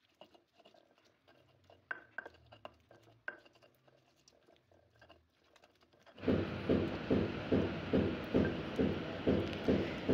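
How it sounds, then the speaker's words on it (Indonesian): Chili and onion pounded and ground in a stone mortar with a pestle for eggplant sambal: a few light taps at first, then steady, loud rhythmic grinding strokes close by. "cabai dan lain-lainnya dulu yang diulek"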